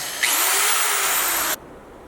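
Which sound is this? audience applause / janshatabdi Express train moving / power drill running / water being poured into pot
power drill running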